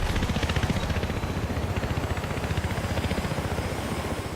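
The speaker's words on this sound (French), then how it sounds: "Hélicoptère." A helicopter in Battlefield Hardline multiplayer: the rotor thumps in a rapid, steady beat over a broad engine roar, constant and fairly close throughout.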